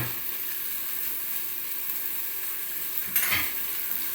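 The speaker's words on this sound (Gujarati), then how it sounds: "અને પછી તેમાં આ મિક્સ વેજીટેબલ આપણે નાખી દઈએ" Onion and mixed vegetables sauté in a pot for vegetable dal khichdi, making a soft, even sizzle with one brief clatter of a spoon or vegetables dropping in near the end.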